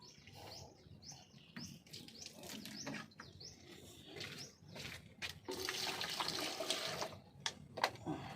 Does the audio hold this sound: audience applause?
no